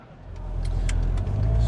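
A VW camper van drives along a road in France, its engine hum and tyre rumble building steadily and staying close and loud throughout.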